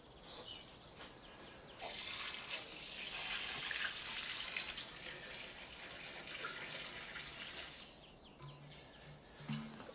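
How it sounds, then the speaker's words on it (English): Citrus plants in a garden get a good soak, a soft hiss of running water that swells for a few seconds and then eases off, fairly faint, with a few bird calls near the end. "when you water citrus of any kind, soak, don't sprinkle."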